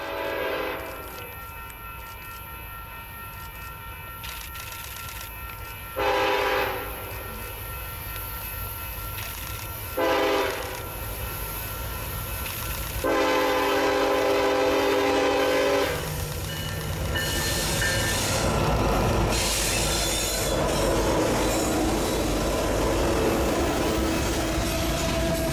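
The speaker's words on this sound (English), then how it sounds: "A UP stack train westbound descends the Donner Pass" A westbound Union Pacific stack train rolls down Donner Pass with a steady rumble and wheel noise, its horn sounding in several loud blasts of varying length before the train passes close by.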